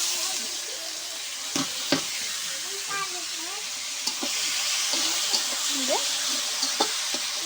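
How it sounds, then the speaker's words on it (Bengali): Leafy greens frying in a pan with chopped onion and garlic make a steady close sizzle with occasional stirring clacks, while brief voices come and go over it. "পেঁয়াজ রসুনটা ভাজা হয়ে গেছে এবার শাকটা ঢেলে দেবো"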